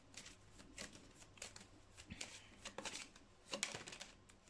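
Tarot cards shuffled by hand for a love reading, a string of soft riffling and flicking bursts close by, with no talking over them.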